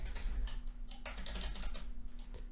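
Fast, continuous clicking of a computer keyboard during a speed typing test, close to the microphone and dense with keystrokes, with no one talking over it.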